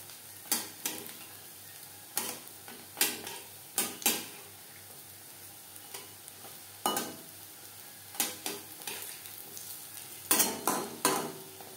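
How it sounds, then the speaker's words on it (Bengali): Lentil fritters (dal bora) fry crisp in mustard oil under a quiet sizzle, broken by sharp, irregular clinks and scrapes of a spatula turning them in the pan. "উল্টে পাল্টে ক্রিস্পি করে ভেজে নেব"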